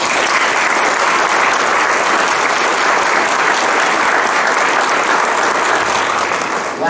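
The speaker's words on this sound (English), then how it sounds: "can we just give our music and band leaders a round of applause" A school music program audience gives music and band leaders a loud, sustained round of applause, dense steady clapping filling the room for about seven seconds without pause.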